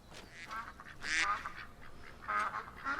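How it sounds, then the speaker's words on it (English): Ducks quack repeatedly in a video game as dusk falls over open wilderness, several calls near and overlapping in short bursts with an ambient game backdrop and no talk. "Awful lot of ducks around."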